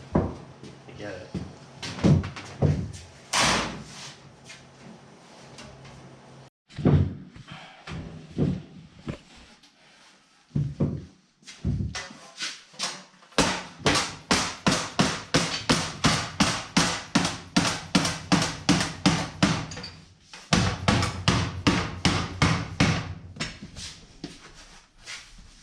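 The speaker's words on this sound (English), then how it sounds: "I do everything on a power hammer" Rapid, rhythmic metallic pounding of a power hammer shaping Model A roof panels from sheet metal, bursts of steady repeated blows with short pauses, loud and close, with some talk early on.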